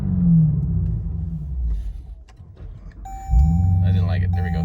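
A 2021 Dodge Durango SRT Hellcat rumbles low inside the cabin under a voice, then surges into a heavier, louder growl as the throttle opens near the end.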